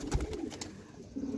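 A domestic fancy pigeon at a loft gives a soft, close coo, followed by a brief quieter pause and then another low cooing phrase.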